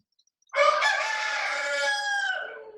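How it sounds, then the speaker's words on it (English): A rooster crows once, a single long, loud, close call lasting over two seconds, starting abruptly after a short silence and trailing off at the end. "The rooster's name is Bruce"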